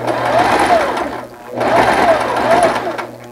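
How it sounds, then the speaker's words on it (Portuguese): An electric sewing machine runs in two fast, steady bursts with a short pause between, stitching elastic onto a fabric face mask close up, its motor whirring and needle chattering. "Vira e vamos costurando aqui com o nosso elástico para dentro."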